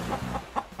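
A toy parrot in a Disney princess playset lets out a few short, sharp squawks in quick succession, close and moderately loud, with a brief pause between calls.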